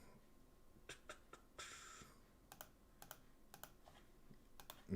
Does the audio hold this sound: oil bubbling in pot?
no